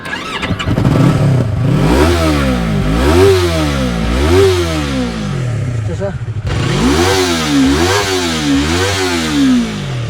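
A Yamaha R3 sport motorcycle engine revs hard again and again, rising and falling in sharp bursts, loud and close.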